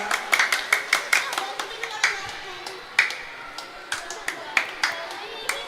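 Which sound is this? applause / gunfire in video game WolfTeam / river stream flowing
applause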